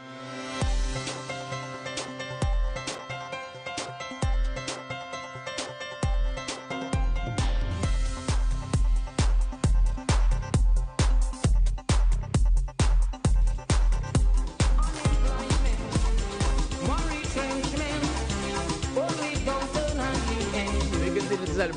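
Calypso song plays loud and continuous, a full band with a driving bass and percussion beat that kicks in strongly after a lighter opening.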